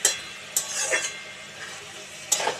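A spatula stirs a bottle gourd curry (lau ghonto) with coriander leaves in a pan, giving a few brief close scrapes over a faint sizzle, with no talking.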